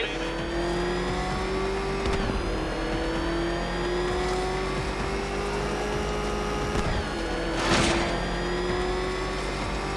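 The Batmobile engine in Batman: Arkham Knight drones and revs steadily through a race, a continuous close motor tone with pitch rising and falling, a brief whoosh, and speech mixed in.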